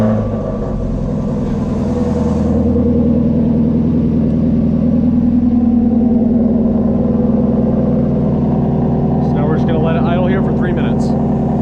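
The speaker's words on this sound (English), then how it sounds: "just going to go ahead and get in the vehicle and you're going to let it idle for 3 minutes" A Ford Mustang GT350 with a newly installed Soler Performance throttle body idles with a steady, deep, even rumble, close and continuous, with faint higher clicks near the end.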